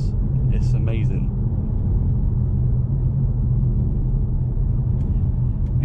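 A 2012 Mercedes C63 AMG W204 rumbles steadily and deeply while driving, its engine drone constant and close throughout, with a brief voice heard near the start.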